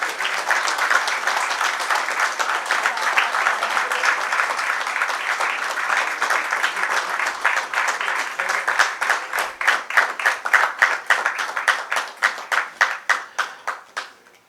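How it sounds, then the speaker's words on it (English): Audience at a seminar inaugural function in a Lonavala hotel applauding for about fourteen seconds, a dense, even clapping that breaks into distinct, thinning claps before fading out. "A big round of applause, please."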